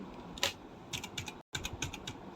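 Someone types on a computer keyboard during a Roblox gaming session, producing quick clusters of close, crisp key clicks with a brief silent gap midway.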